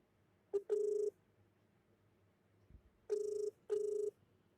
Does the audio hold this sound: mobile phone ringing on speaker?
yes